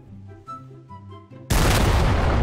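A loud, sustained blast of cannon fire and explosion in Garry's Mod, cutting in suddenly after quieter tonal game sounds.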